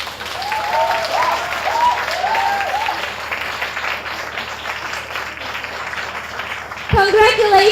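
Crowd applause at a ceremony, steady clapping joined by voices calling out over it, then a louder burst near the end as a speaker comes in.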